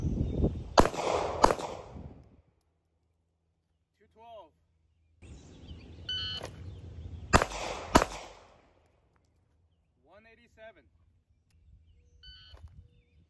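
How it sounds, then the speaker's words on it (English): A Ruger LCP Max .380 ACP pistol fired one-handed at the 5-yard line: sharp, loud cracks in quick pairs separated by quiet gaps, with a person speaking between shots. "I'm going to draw, then fire one-handed,"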